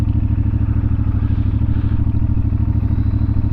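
New 2026 CF Moto 450MT motorcycle engine running steadily nearby, a loud, even low-pitched throb with a slight rattling clatter and no gear or speed changes.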